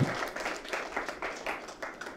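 An audience of children applauds at a literary session, giving a short burst of rhythmic, fairly loud clapping in regular pulses with no voices over it.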